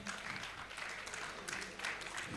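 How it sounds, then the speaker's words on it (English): An audience at a teachers' seminar claps steadily in sustained applause, a dense wash of many hands heard close throughout the short span. "I think we should have huge clap for them."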